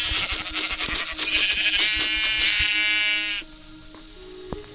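Sheep in Minecraft bleat in a rapid series of loud, close, wavering cries, overlapping with clicks, then stop abruptly, leaving a faint hum and a single short tap.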